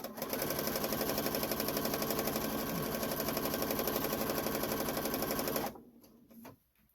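Sewing machine running steadily while stitching quilt strips for a log cabin scrap quilt, a loud continuous mechanical whir that stops near the end, leaving faint handling noises.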